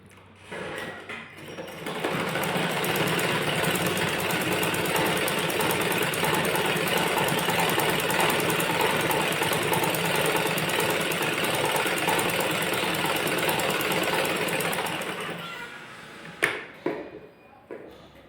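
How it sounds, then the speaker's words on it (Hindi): Close and steady, a sewing machine topstitching a blouse whirs continuously for around thirteen seconds, with brief handling noises and clicks before it starts and after it stops. "ऊपर से हमें टप सिलाई लगाना है।"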